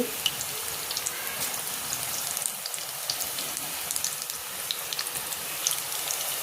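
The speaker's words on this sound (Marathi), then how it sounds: "सगळे भजे म्हणजे तळून घेऊ आणि व्यवस्थित आता कमी गॅसमध्ये तळायचे" Bhaji fritters made from fresh green peas fry steadily in hot oil over low gas, a continuous soft sizzle with faint crackles and pops throughout, no voices.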